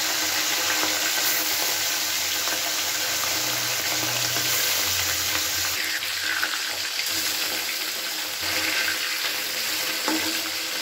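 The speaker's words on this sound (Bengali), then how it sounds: "মাছগুলোকে ভেজে নিচ্ছি" Khoira fish frying one by one in hot oil in a pan, a steady loud hiss and crackle of sizzling that runs on without a break, no voices.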